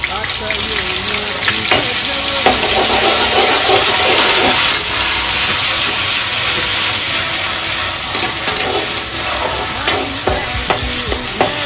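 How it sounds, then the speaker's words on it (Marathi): Homemade ginger-garlic paste frying in a pan while cooking crab, a loud steady sizzle and hiss close up, with occasional stirring scrapes. "आता अद्रक लसूणची पेस्ट मी केलेली ती टाकते"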